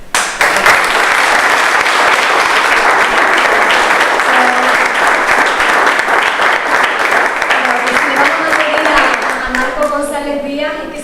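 An audience applauds warmly and continuously at a Women's Day event in Gáldar, the loud dense clapping holding steady for about ten seconds before thinning out near the end.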